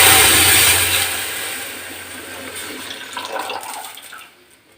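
Milk pours steadily into a pot of fried rice for payesh, giving a close, splashing gush that gradually thins and fades out near the end.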